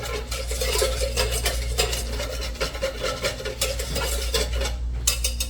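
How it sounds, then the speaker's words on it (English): Pickle brine with black peppercorns being whisked in a pot, a busy rhythmic scraping and clinking that runs steadily and close by. "Let's give that a nice whisk."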